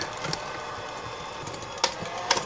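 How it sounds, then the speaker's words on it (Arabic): An electric cake mixer beats choux pastry dough with eggs, a faint, steady mechanical whir with a few sharp clicks and knocks. "ولكن انا ما اقدر لهذا استخدم خلاط الكيك"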